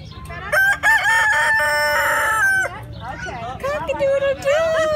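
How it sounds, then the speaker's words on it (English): A rooster crows loudly and close by in two long, wavering calls with clucking-like fragments between them. "Cock-a-doodle-doo."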